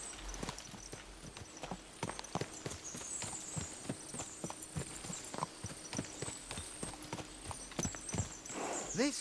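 Horse hooves clip-clop at a steady walking rhythm in the medieval game Kingdom Come Deliverance 2, close and fairly loud, with game ambience and a faint chime-like tone running underneath.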